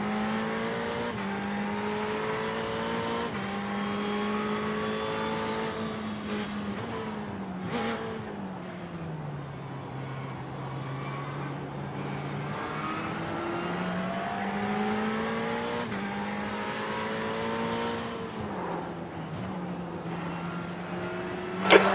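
Ferrari GT3 race cars launch from the start in the iRacing sim at Zandvoort. Engines rev hard and climb steadily through the gears with brief shift dips, a continuous loud drone that holds for the whole stretch.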